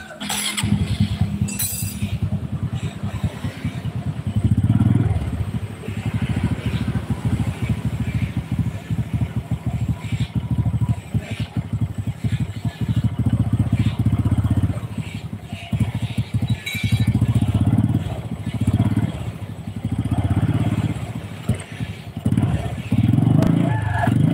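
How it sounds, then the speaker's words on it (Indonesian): A Honda Supra 125 motorcycle with a clutch problem idles loud and close in a workshop, its engine running continuously with a rough, uneven putter. "Kita dengerin mesinnya."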